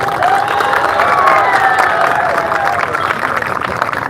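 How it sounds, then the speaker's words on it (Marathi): A large crowd at a protest rally in Nanded district claps and cheers steadily for several seconds, a dense loud roar of applause with scattered shouts and voices mixed in. "दुसरी टाळी कुणासाठी वाजवायचे"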